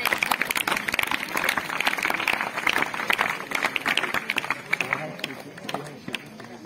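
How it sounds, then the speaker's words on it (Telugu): An audience at a fire fighting demonstration claps hands in a dense, steady patter of many people, while a voice speaks over the clapping. "క్లాప్ కొట్టండి గట్టిగా, క్లాప్."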